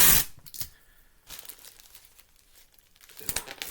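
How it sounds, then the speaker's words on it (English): Packing tape pulled and pressed down onto a large letter envelope, heard as close, sharp crinkling and tearing bursts at the start and end with quieter rustling in between. "So let's get that taped down."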